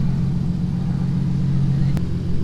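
Nissan 350Z engine idling low and steady with a deep rumble, close by, with a short click near the end.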